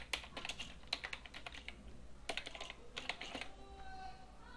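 Rapid clusters of keystrokes on a computer keyboard as project details are entered into Revit 2012, fairly close and quiet, coming in short bursts with brief pauses and no talking.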